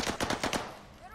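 A quick burst of about five automatic gunshots rattles out in a battle royale video game, fairly close, then fades into a ringing tail.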